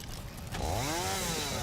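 Chainsaw cutting in the video game Satisfactory, a motor revving up from a low idle into a steady, loud, buzzing whine that holds for the rest of the short moment, with no talk over it.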